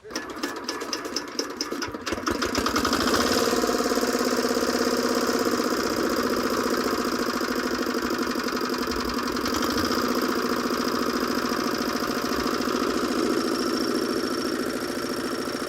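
A Neno power tiller's small engine starts up and then runs steadily, a loud, busy mechanical clatter with a buzzing drone that holds constant.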